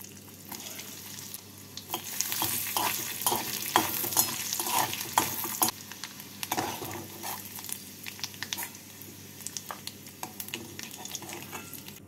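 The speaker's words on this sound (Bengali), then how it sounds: "এবার এই তেলের মধ্যে এখানে নিয়েছি কিছুটা কুচনো নারকেল। নারকেলগুলোকে ভেজে" Chopped coconut frying in hot oil in a kadai, a steady close sizzle broken by frequent scraping stirs of a spatula, with no talking.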